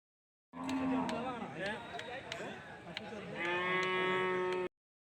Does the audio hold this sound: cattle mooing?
yes